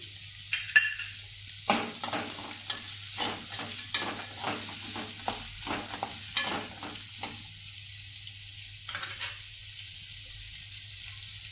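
Green chillies and curry leaves fry in hot oil for a poha (avalakki) dish, a steady sizzle under repeated scraping strokes of a spoon stirring in the pan for the first seven seconds, then a quieter continuous hiss with one last stir.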